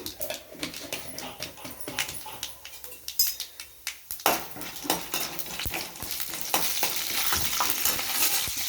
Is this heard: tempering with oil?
yes